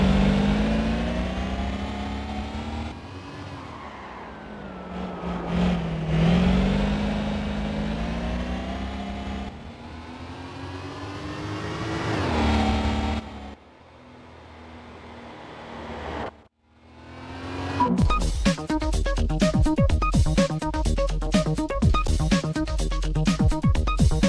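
Racing car engine in the Gran Turismo PSP video game, driven through a winding section of turns, loud and close, revving up and down as it brakes and gets back on the throttle, with a brief lull before hard acceleration resumes.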